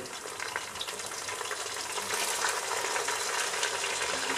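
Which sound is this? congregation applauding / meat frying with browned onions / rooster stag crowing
meat frying with browned onions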